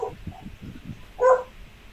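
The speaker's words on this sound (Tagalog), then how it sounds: "Patahimik mo nga yung aso mo bago ako gawin lechon yan." A pet dog gives a single sharp bark near the middle, preceded by a few soft low thumps and yips, fairly close in an otherwise quiet room.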